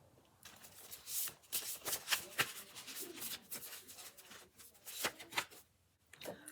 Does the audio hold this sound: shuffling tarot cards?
yes